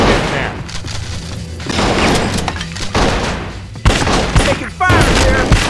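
Rapid bursts of gunfire in the video game Bad Boys 2: Miami Takedown, loud and continuous with heavy booming impacts and a sharp blast near the four-second mark, under game noise.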